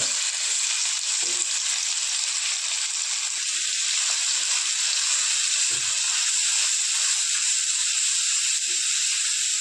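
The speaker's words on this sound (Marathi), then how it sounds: "आता कढई गरम झाली थोडं तेल टाकून घेऊ कढीपत्ता टाकून घेऊ थोडा अद्रक लसूण बारीक केलेलं ते पण भाजून घेऊ" Curry leaves with finely chopped ginger and garlic frying in hot oil in a wok for Mumbai-style vada pav, a steady bright sizzle and hiss running throughout with faint clicks of stirring underneath.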